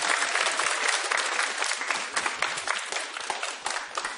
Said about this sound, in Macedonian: Еден огромен аплауз уште еден може, да, за овие прекрасни дечиња.